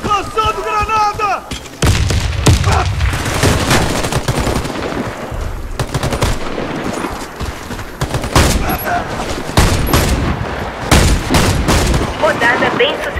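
Grenade blasts and rapid gunfire in a Warface clan war match, with dense automatic bursts and heavy booming thumps repeating loudly throughout, amid continuous close combat noise.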